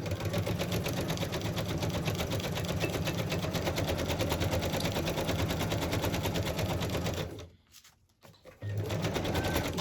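A sewing machine stitches in a fast, steady mechanical rattle, pausing briefly near the end before resuming.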